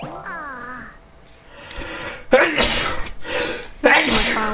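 A person sneezes twice in sharp, loud bursts over video game music and spoken commentary during Kingdom Hearts: Birth By Sleep play.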